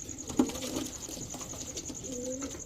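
Pakistani Teddy pigeons coo softly at night, with low, throaty rolling calls repeating near the listener over a faint background hum.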